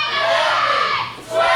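Loud wrestling arena crowd chanting a count in unison, a dense roar of many voices rising and falling in rhythm, close and energetic.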